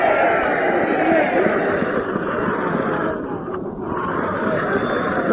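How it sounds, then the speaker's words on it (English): A football crowd at Norwood Oval roars after a goal in a 1986 Norwood versus Port Adelaide match, a loud, sustained wash of cheering under a commentator's voice. "Well, erupting crowd there"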